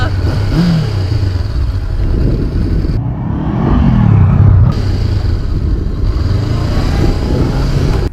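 A Honda Monkey motorcycle engine rumbles steadily and close by throughout, with a brief rise in revs partway through the ride and constant wind and road noise.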